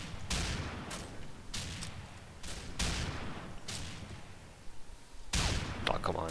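Gunfire in the Combat Arms video game comes in repeated loud bursts of shots, several sharp volleys spaced about a second apart with rattling tails, close and dominant throughout.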